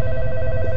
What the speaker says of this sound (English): Wait, I hear a phone ringing.